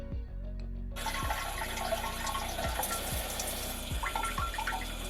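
Water rushes steadily from a newly installed bidet, a loud continuous spray with splashing that starts abruptly after a brief quiet moment and holds at an even level.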